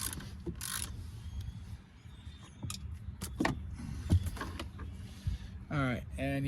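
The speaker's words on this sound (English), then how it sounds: "I used a deep well, 15 mil, and a ratchet for this whole job so far." Ratchet clicks in short bursts as a 15 mm deep socket works a seat belt bolt loose inside a C6 Corvette, close and fairly loud, with scattered metallic taps between the bursts.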